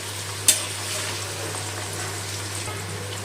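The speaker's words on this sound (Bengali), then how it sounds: "পেঁয়াজটা একটু ভেজে দেবো তেলের মধ্যে" Chopped onion frying in hot oil with garlic for Chinese-style fried rice, a steady close sizzle after one sharp clink of a utensil, with a faint low hum beneath and no talk.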